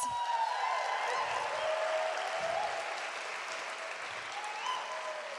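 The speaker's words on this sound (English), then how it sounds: "give her a round of applause" An audience at The Paramount applauds a speaker, a steady sustained roar of clapping that stays even and fills the whole stretch.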